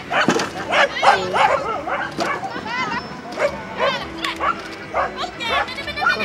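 A Finnish Lapphund at an agility competition gives repeated yips and barks close by, mixed with whines, while people talk throughout.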